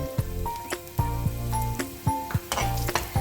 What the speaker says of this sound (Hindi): अब तड़के में हल्की सी लाल मिर्च डाल के